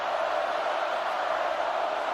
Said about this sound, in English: Penn State fans making some noise for their defense